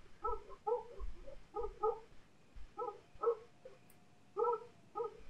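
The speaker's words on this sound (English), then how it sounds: "I don't even know what they're barking at." Dogs in the video game Resident Evil Remake barking in repeated short bursts, several clear barks spaced through the moment, mid-distance and fairly loud with no talk over them.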